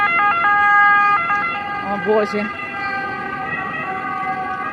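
Ambulance and police sirens wail, sweeping and warbling from a distance over steady traffic noise, and a voice briefly exclaims partway through.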